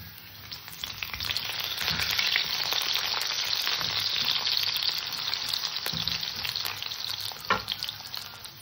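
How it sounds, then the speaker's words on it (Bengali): Potatoes frying in hot oil for a fish curry: a steady, close sizzle with occasional clicks and scrapes of stirring, no voices. "আলু কটাকে ভালো করে ভেজে নেব।"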